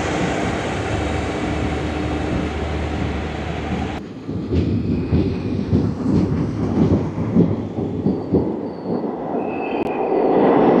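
A crowded DEMU passenger train on the Sangaldan to Srinagar line rumbles along, heard from inside as a steady roar that gives way after a few seconds to rattling, clattering wheels and carriage noise with faint squeals.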